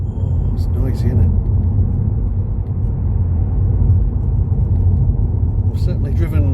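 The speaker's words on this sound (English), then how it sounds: "And all that's road noise as well, isn't it?" Steady low rumble of tires on pavement heard from inside a moving Tesla Model 3 electric car, continuous and fairly loud, with faint higher squeaks near the start and end.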